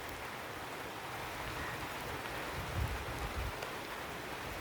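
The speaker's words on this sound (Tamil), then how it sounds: "மழை எப்படி வருது பாருங்க." Rain falls steadily outdoors, a dense, even hiss of drops with a few heavier patters partway through, moderately quiet and with no voices.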